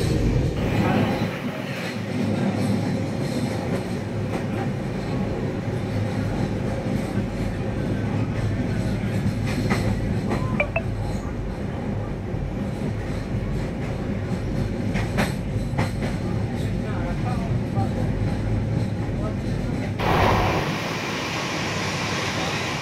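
Shatabdi Express passenger train (12041, Howrah to New Jalpaiguri) running beside the Farakka Bridge: steady loud rumble and clatter of wheels on rails throughout, with faint metallic squeals, heard from inside the moving train.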